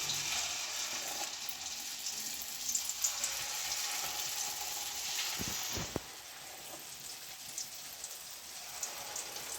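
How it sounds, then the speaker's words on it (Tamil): Small balls of unfermented idli batter dropped into hot oil to fry, a continuous dense sizzling hiss close by with scattered pops and a brief clatter and dip in level midway before the bubbling continues. "புளிக்காத இட்லி மாவில் உப்பு போட்டு கொஞ்சம் குட்டி குட்டியாக எடுத்து எண்ணெயில் போட போகிறோம்."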